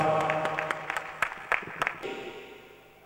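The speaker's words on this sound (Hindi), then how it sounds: "एक बार जोरदार तालियों से स्वागत।" Scattered claps from an audience welcoming the governor at a religious festival gathering, a sparse irregular run of individual hand claps over a murmuring room that thins and fades toward the end.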